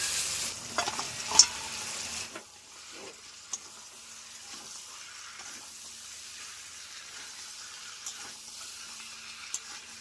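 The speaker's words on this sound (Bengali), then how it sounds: "মাংসটা খুব ভালোভাবে মশলার সাথে কষে নিয়েছি" Mutton frying with spices in a pan, a loud close sizzle for the first couple of seconds that drops to a faint steady frying hiss, broken by a few sparse clinks and scrapes of stirring.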